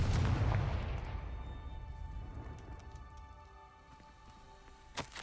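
A Confringo spell detonates in the game Hogwarts Legacy with a loud, deep blast that fades into a long crackling, hissing tail, followed by a short sharp impact near the end.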